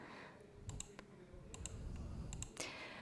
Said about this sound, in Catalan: mentre apreto la barra d'espai amb el ratolí moc la imatge